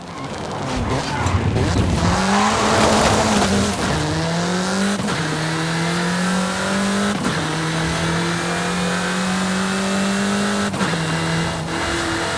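Car engine in Forza Horizon 5 on PS5 revving and accelerating hard at speed, with repeated rising pitch sweeps as it shifts through gears, loud and close, plus some tire noise.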